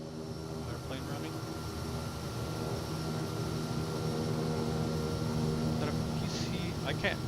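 A steady, droning airplane engine runs throughout in Microsoft Flight Simulator 2024, a Pilatus PC-12 or Kodiak in Papua New Guinea, holding a constant hum with faint clicks on top.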